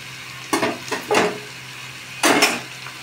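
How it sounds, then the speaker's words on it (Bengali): Boiled jackfruit and potatoes being mashed and mixed in a metal pot, giving a few short scraping, clattering bursts of spoon against pot with quiet gaps between, close and moderately loud with no talking. "এই দেখো পুরো মাখিয়ে ফেললাম।"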